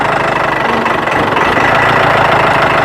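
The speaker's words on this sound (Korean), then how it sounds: "근데 시동을 걸게 되면 자 시동을 걸게 되면" A construction machine's diesel engine idles in a steady, loud, rumbling drone with a faint knocking pulse, no voices over it.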